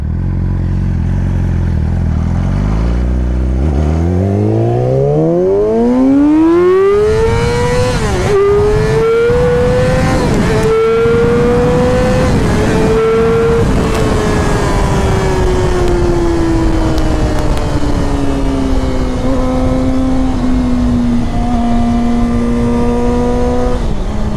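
A 2014 Yamaha R6 sport motorcycle accelerating hard on a test ride, its engine whine climbing steeply through the gears with brief dips at each shift, then holding a loud, steady high-revving drone close by.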